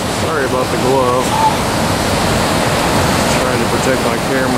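A river runs at flood stage near Tahquamenon Falls in Michigan, a loud, constant rushing roar with wind buffeting the microphone and someone speaking over it.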